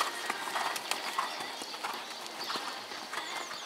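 Horse hooves cantering in a dressage arena during a riding-horse test, a steady, fairly distant clip-clop rhythm of repeated footfalls over faint background ambience.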